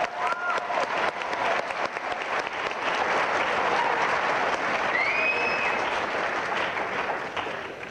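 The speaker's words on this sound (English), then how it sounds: "give another round of applause for participants 9 through 15" An audience at a live-streamed competition claps continuously for contestants, a broad sustained wash of applause with a couple of faint whistles riding over it midway.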